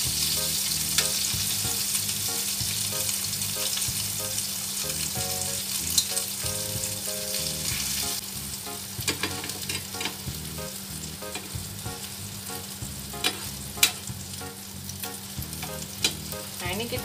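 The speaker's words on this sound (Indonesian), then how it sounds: "Jadi sesudah dicelup kita goreng di mentega." Steady, close sizzling of batter-dipped food frying in butter in a pan, with occasional crackles and pops and faint clinks over the constant hiss.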